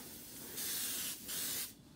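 An airbrush sprays paint in two short hissing bursts, soft and close, separated by a brief pause, while painting a 1/35 scale armoured vehicle model.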